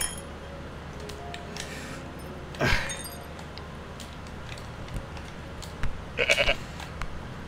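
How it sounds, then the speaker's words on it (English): A goat bleats in the video game I am Bread, a short bleat near the start with a second, higher, clipped call later, over a steady low game backdrop with faint clinks. "Come on, goat."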